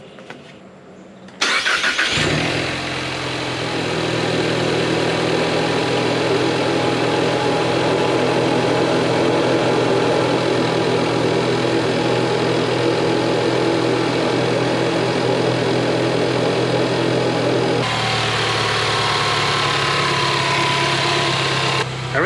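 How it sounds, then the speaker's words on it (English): A Ford Mustang EcoBoost turbo engine with new charge pipes cranks and catches, then settles into a steady, throaty idle that drones on evenly for the rest of the clip, close up. "now I'm gonna give the car a start, see if there's any difference in sound"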